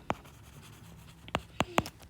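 Pen strokes tap and scratch on paper in short, sharp bursts, one early and a quick cluster of three near the end, while a math sequence is written out by hand.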